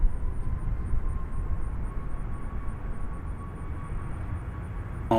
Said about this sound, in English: Here's a Southwest 73800 arriving from Pensacola.